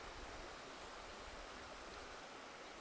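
Water flows steadily by a stream outdoors in nature, a constant broadband rushing wash heard alone at low level, with no voices.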